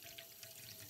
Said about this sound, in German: Ich nehme ganz normales kaltes Wasser aus der Leitung